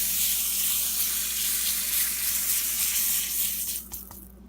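Butter sizzles steadily in a hot cast iron pan on low heat, a continuous close hiss that fades near the end.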